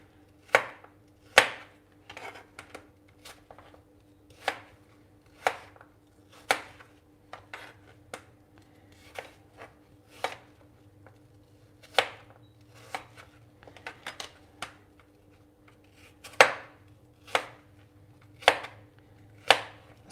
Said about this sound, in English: You can also cut them into wedges, just like this.